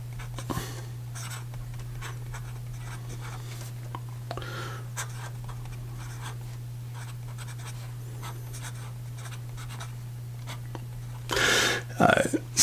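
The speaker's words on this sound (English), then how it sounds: "And in regard to a writing sample," Fountain pen with a music nib writing on paper, a steady soft scratching throughout that grows louder in a brief burst near the end, over a constant low mains hum, with no talk.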